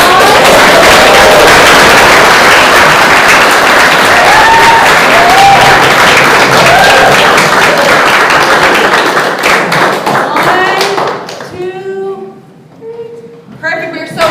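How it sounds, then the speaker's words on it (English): Audience applause at a school district event, a dense crowd of clapping hands that fills the room and then thins out, with a few voices speaking over the tail end. "So let's give another round of applause."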